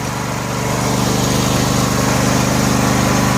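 A John Deere L118 lawn tractor's Briggs & Stratton Entek 22 HP twin engine idles steadily and loudly nearby, a continuous even drone with no talking over it.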